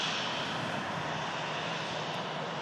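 An Airbus A330 jet climbs out after takeoff at Manchester Airport, a steady, broad engine roar holding at a constant distance throughout with no voices over it.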